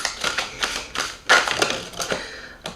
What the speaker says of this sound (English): Let's shuffle up a little more and see what's coming out for the second half of the year